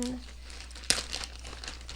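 Close crinkling of a plastic baggie holding vintage cabinet cards, with one sharp rustle followed by softer handling sounds, and a voice briefly at the start.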